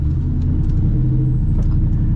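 Roush Terminator 10th Anniversary Cobra engine idling roughly with an idle problem, a loud, close, continuous low rumble with an uneven throb.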